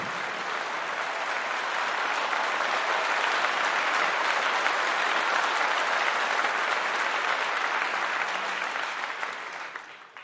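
An audience applauds a band at a gala concert in Timișoara, with a steady, dense wash of applause throughout that tapers off at the very end.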